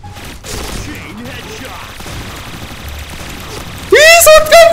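Shotgun blasts and gunfire in a video game, a burst of noisy shots sitting in a busy game mix with a sharp, tonal effect cutting in near the end.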